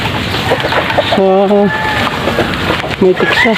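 A native hen clucks in short bursts near the nest while laying eggs, with a person speaking over the calls.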